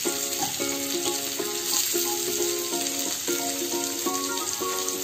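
Potatoes for dum aloo fry in a few spoons of oil, a moderate continuous sizzle with steady crackle under a faint repeating tonal pattern in the background.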